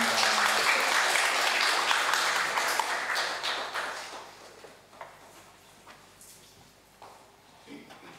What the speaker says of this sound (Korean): 우리 나오실 때 환영합니다 하고 박수하는 몸으로 우리 맞이하겠습니다.